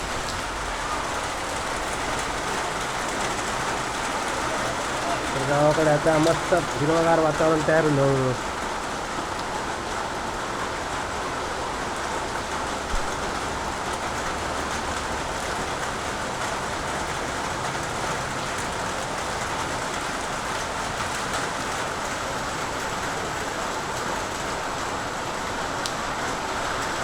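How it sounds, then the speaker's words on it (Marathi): Heavy pre-monsoon rain pours steadily in the Konkan countryside, a dense, continuous loud hiss that lasts throughout, with a person talking briefly over it. "मोठी सर आली, आता मोठ्या कॅम्पाचा पाऊस पडतो"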